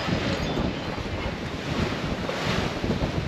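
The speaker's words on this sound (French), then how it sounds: "On a une belle grande houle. Et de temps en temps, on a des petites vagues qui viennent taper." Ocean swell and small waves wash around a sailing boat under sail, a dense, continuous roar of water heavily mixed with close wind buffeting on the microphone.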